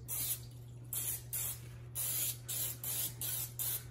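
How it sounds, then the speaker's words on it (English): Short hissing bursts of cooking spray onto a baking pan, about eight quick sprays in a steady rhythm, close and fairly loud over a low background hum. "Make sure you spray your pan and spray it, pretty good."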